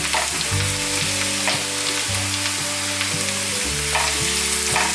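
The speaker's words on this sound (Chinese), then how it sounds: "炒至高丽菜变成金黄色。" Shredded cabbage (高丽菜) stir-frying in a hot pan for a vegan Malaysian taro cake, with a loud, continuous close sizzle and a steady hum underneath throughout.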